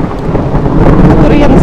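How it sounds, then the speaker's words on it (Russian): Deep, rolling thunder rumbles steadily outdoors in the mountains near Elbrus, in Kabardino-Balkaria, during mushroom picking. It is loud and continuous, with wind-like noise throughout. "Какой-то гром,"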